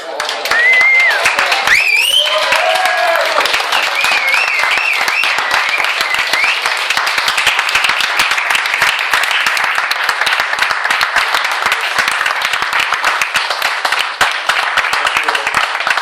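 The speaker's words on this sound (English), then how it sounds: "please give them the applause they deserve" Wedding guests applaud the bride and groom in a steady, dense burst of clapping that holds for the whole stretch, with a few voices and cheers mixed in near the start.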